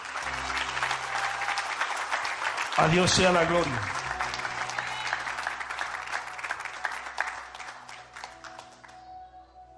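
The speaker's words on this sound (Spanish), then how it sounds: "Dele un aplauso a Dios, mi amada" Congregation in a church service applauds loudly and continuously, with a preacher's voice rising briefly over the clapping before it gradually thins out.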